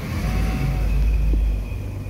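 A small Suzuki S-Presso car engine revs steadily and loudly nearby, giving a continuous rumbling drone that swells slightly and then eases, with no speech over it.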